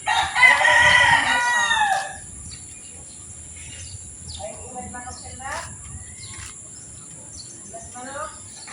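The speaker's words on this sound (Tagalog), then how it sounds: "May manok!" A rooster crows loudly nearby in one long call, followed by quieter talking voices and faint background sounds.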